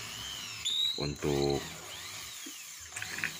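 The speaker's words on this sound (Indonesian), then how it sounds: "Nah, kita gunakan mata borehole saw dulu" A power drill fitted with a hole saw bit cuts into wood while a toy rifle is being built, giving a whining, ratcheting mechanical sound that rises and fades in bursts, with someone speaking briefly in between.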